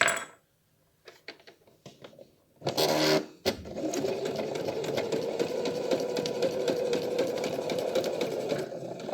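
A sewing machine stitches fabric for reusable wipes, running steadily and close up after a few faint taps and a short noisy burst, its rapid needle rhythm continuing through to the end.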